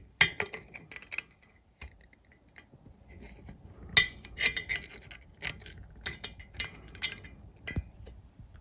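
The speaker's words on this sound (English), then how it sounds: "grab a pick tool and carefully pick away at that melted housing that is melted onto that bolt" Small metal pick tool scraping and picking at melted plastic housing fused onto a bolt on a Mercruiser Mercury outdrive water pocket cover, giving irregular bursts of close, sharp clicking and scratching with brief pauses.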